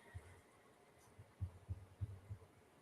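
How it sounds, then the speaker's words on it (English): A heart beats in low, soft thumps, about half a dozen regular pulses of paired beats with a faint hum behind them, quiet and close. "I muted myself and I still hear that heart beating"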